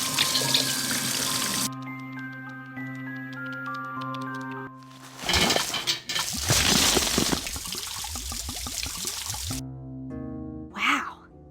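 Water from a tap runs into a watering can in the Coraline video game on Wii, a steady rushing pour that stops and starts again over a background of game music.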